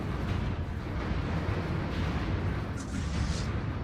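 A battleship blows apart in the space strategy game Stellaris, a dense, sustained rumbling blast with heavy low-end roar and crackling debris that stays loud and continuous throughout.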